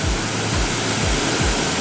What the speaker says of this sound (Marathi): हा आपण गावामध्ये प्रवेश करतानाचा पहिला धबधबा